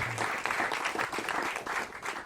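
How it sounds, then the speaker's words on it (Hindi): A church congregation claps in steady applause, a dense continuous patter of many hands lasting the full stretch, moderately loud and without voices. "जोरदार तालियां"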